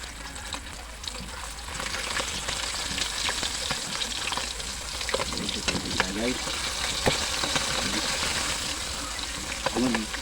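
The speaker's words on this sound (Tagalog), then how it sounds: "magiging ingay tayo lalo pag bangus yung ating piniprito. Kaya eh, minsan pumuputok o tumatalsik yung mantika." Steady, loud sizzling of milkfish frying in hot oil in a pan, with scattered pops and crackles of spattering oil throughout and faint voice fragments underneath.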